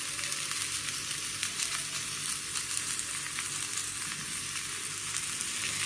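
Cumin seeds and curry leaves roast in hot oil in a pan, producing a steady, bright sizzle with faint crackles and no voices.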